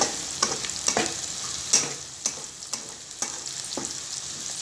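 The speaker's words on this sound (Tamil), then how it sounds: "பாருங்கள் வெங்காயம் நல்லா வணங்கிட்டுருக்கு." Chopped onions sauté in a pan while preparing idli manchurian, a steady sizzle broken by sharp scraping clicks of a spatula stirring every half second or so, close and moderately loud with no talking.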